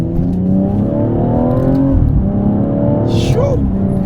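BMW 135i accelerating hard on a night drive, engine note climbing steadily with rising harmonics and a brief shift break near the middle, loud and continuous with voices talking over it inside the car.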